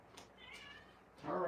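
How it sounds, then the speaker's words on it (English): A cat meows faintly and briefly, a thin drawn-out cry, followed by a louder muffled shuffle at the end. "I gotta go let my cat in."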